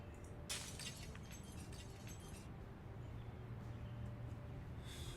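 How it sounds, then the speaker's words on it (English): A strong pane of glass breaks in the survival video game Project Zomboid, a bright crash with scattered shards in the first seconds, then quieter ambience and a low hum. "No, I want to break it. Break it. It's a strong pane of glass."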